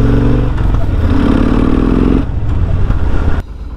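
Kawasaki VN15 cruiser motorcycle on a test ride, its engine thrumming in a steady low rumble that shifts pitch slightly as it rides past, then drops off abruptly near the end.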